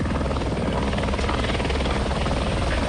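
Firefighting water-tanker helicopter of the police air unit flying over a wildfire on a volcano's slopes, its rotor drone loud, steady and continuous throughout with a dense low thrum and no pauses.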